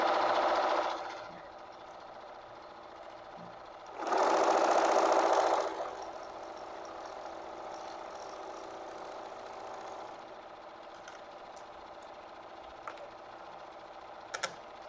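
A domestic sewing machine stitching free motion quilting runs in two loud, close bursts of rapid mechanical whirring, the second about two seconds long, with a quieter steady hum and a few light clicks between them.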